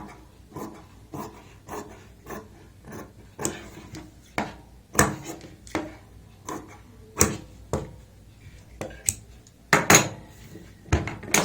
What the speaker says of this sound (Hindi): और आधा इंच या एक पैर मार्जिन रखते हुए एक्स्ट्रा जो कपड़ा होता है इसको हम काट लेते हैं